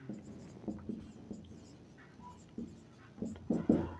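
A pen scratches on paper during a Hindi-language class 10 maths lesson on linear equations: faint, intermittent strokes and taps, growing a little louder near the end, with no speech.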